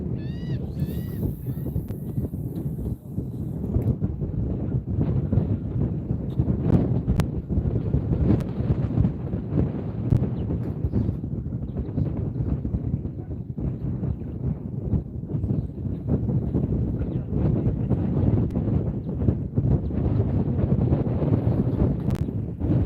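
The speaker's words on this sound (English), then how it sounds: "Wind is going nuts now." Strong wind buffets a microphone on a fishing pier, a loud, constant roaring rumble with gusty surges throughout, and no talking.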